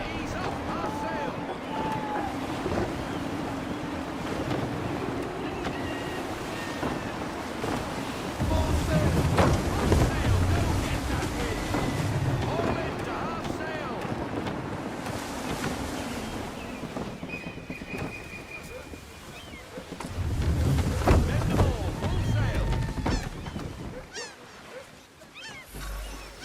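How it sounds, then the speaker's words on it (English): Gusty wind and a sailing ship at sea in Assassin's Creed 3: a steady rush of wind and surging water fills the scene, swelling louder in stretches, while voices talk over it. "Gusty winds can be difficult to manage."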